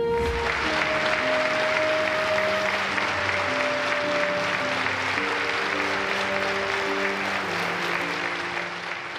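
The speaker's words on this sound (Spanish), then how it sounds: "quien recibió un minuto de aplausos" Sustained applause from a large gathering honouring the late producer Nicandro Díaz at his farewell memorial, a dense steady wash of clapping lasting the whole stretch, with a held musical tone running underneath.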